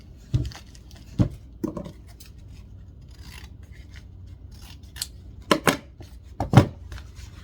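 Scissors snip through thick ribbon at a tabletop while a package is wrapped in tissue paper. Several crisp, close cuts come in scattered pairs against a quiet background.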